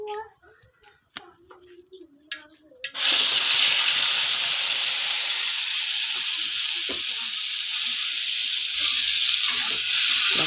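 Balado spice paste with kaffir lime leaves hits a hot pan and bursts into a loud, steady sizzle after a quiet start with faint kitchen clatter and talk, then keeps frying close and strong to the end.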